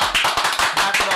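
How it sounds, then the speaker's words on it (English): A few people clap in quick bursts on a basketball-themed radio show, about six loud close claps in a rough rhythm in just over a second. "we got to clap it up one time for May 8th"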